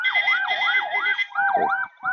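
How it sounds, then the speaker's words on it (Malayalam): An ambulance siren passes near a beach at Chellanam in Kerala, loud and close, with a rapid rising and falling wail that repeats several times and briefly cuts out before it resumes. "ആംബുലൻസ് ഞാൻ വീഡിയോ എടുക്കാൻ സ്റ്റാർട്ട് ചെയ്യുമ്പോഴേക്കും എവിടെയെങ്കിലും വെച്ച് ആംബുലൻസ് പാസ്സാവണ്ടിട്ടാ"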